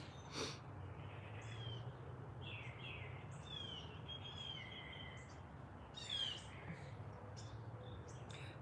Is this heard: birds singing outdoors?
yes